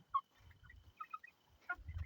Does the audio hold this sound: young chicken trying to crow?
yes